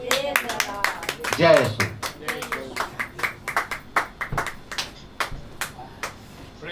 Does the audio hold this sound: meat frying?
no